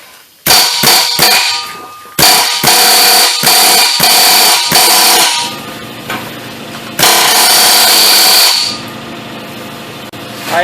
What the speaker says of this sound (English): I'm going to use an air hammer.